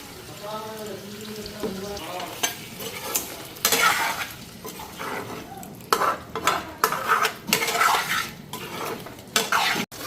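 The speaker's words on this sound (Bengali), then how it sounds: "মশলা এদিকে ফ্রাই করে নিতেছি" Spices frying in a pan on the stove, with sizzling broken up by the scrape and clatter of stirring against the pan; a voice speaks over the cooking early on.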